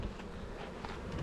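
Bees hum and buzz close by around the entrance of a backyard hive in a desert setting, a dense steady drone with no voices.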